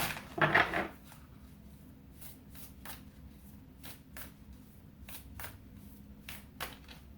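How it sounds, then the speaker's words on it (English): A card slides from a deck with a quick riffle, followed by a run of soft, faint card flicks and taps spaced through a quiet room. "I'm going to pull another card on that one"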